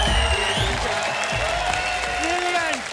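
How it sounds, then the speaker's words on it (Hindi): A studio audience claps steadily on a Hindi comedy and glamour TV show, a dense, continuous round of applause lasting throughout with voices and tonal sounds layered over it, fading slightly at the end. "जोरदार तालियां मलाइका टेरेस और गीता मैम के लिए"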